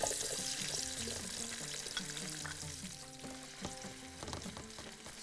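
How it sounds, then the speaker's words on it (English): Onions tossed into hot oil for a Bahraini dish, giving a steady crackling sizzle with faint stirring and scraping noises, close and moderately quiet, no voices. "now the oil is hot, we're going to put the onions"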